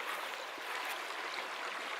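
A river in the Swedish mountains at Grövelsjön, Dalarna, rushes in a steady, close, broadband wash with no pauses and no voices.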